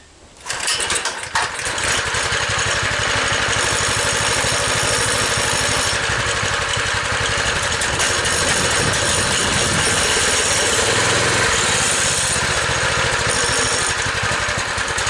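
A Baja Bug's VW engine catches after a short crank and settles into a loud, steady, rough-edged running note close by, holding for more than ten seconds with no talk over it.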